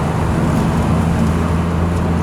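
Steady engine and road rumble from a 1993 Ford Escort RS Cosworth driven over a set of bumps while being shifted into third gear, close and continuous, with no talk.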